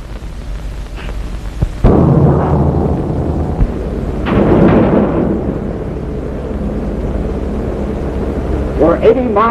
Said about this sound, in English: The storm's right behind us. Bad storm.